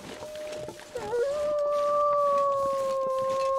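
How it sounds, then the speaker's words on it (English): Wolf howling in the game The Long Dark: one long, sustained, wavering howl that rises and then holds steady, clear and fairly close over a quiet background. "There's a wolf over there."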